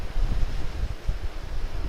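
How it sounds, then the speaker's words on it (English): Hard wind gusting outdoors by the water while a jugline is set for catfish, a loud rumbling buffet against the microphone in uneven surges with no voices. "The wind is blowing too hard for this almost"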